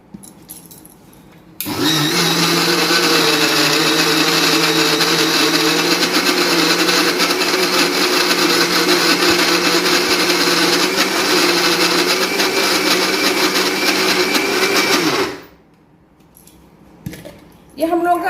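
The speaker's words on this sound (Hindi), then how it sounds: "फिर उसको हम थोड़ा ग्राइंड करेंगे।" A mixer grinder whirs loudly and steadily for about thirteen seconds while blending ingredients for an eggless tea-time cake batter, then winds down and stops, with quiet handling noises before and after.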